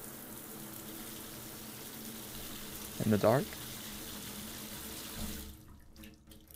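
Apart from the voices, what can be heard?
shower water running in the video game Room 202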